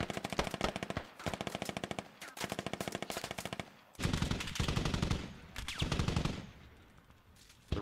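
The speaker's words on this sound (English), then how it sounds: "BTR or something is providing supportive fire" Sustained rapid machine-gun bursts from BTR armored vehicles in the Squad video game, loud dense volleys with brief gaps and heavier overlapping fire later, no voices over it.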